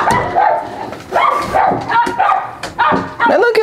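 A high-jumping dog lets out repeated excited barks and yips in quick bursts, close and loud, with some whimpering between them.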